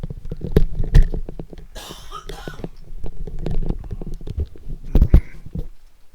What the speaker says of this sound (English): I have a real kind of a cough here